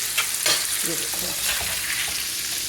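Shrimp tempura frying in oil makes a dense, bright, unbroken sizzle with crackling pops throughout, close and fairly loud.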